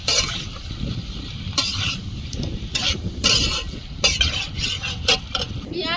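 Chicken sautéing in a pan with cumin and coriander powder for a spiced chicken curry, a steady close sizzle broken by repeated stirring scrapes and clinks throughout.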